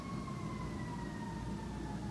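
A siren wails steadily in the distance, its tone holding and slowly dipping, over a low rumble of traffic.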